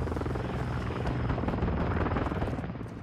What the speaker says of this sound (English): Friendly Overwatch Helo entering the AO.